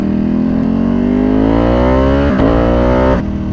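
A Ducati superbike engine runs loud and close, its deep tone climbing steadily as the revs rise, then briefly dips and steps through a couple of gear-change breaks before continuing.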